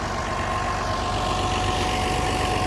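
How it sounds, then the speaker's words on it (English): Case IH Maxxum 5240 tractor with a strong Cummins engine pulls a 5-furrow 7500 moldboard plow, a steady, loud, low diesel drone holding an even pitch throughout, with no voices. "Caseih 5240 on the plow, 5 furrow plow. Rocking a strong Cummins engine."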